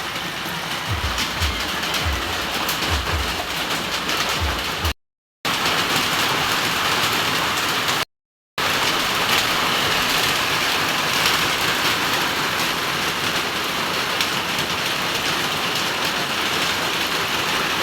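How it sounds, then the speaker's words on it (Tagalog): Heavy rain from typhoon Aghon roars in a continuous, broadband hiss, with a few low thumps early on and two brief gaps of silence, no voices. "Sobrang ulan dito."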